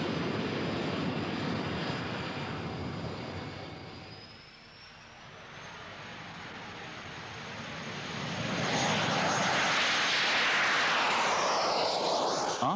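A Jet Provost jet trainer aircraft, first flown in 1954, roars steadily with a broad engine rumble that dips briefly partway through before rising again to full strength, with no talking.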